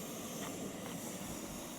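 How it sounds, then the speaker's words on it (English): A Jetboil propane camping stove roars steadily while cooking outdoors during a deer hunt in Arizona, a constant, fairly faint hiss with no voices over it. "Now we're sitting here cooking off the jet boil."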